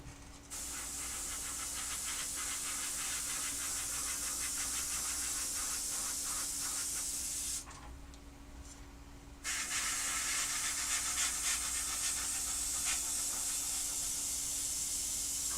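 Flat coat sprayed onto a scale model gives a loud, close, continuous hiss that stops for about two seconds partway through and then resumes just as steadily.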